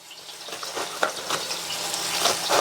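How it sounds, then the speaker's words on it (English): Chicken breasts fry in a pan with a soft, steady sizzle and small crackling pops, fairly close and moderately quiet, without any talking. "We're going to cook it until all our chicken breasts reach 165 degrees."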